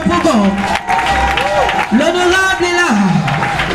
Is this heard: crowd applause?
yes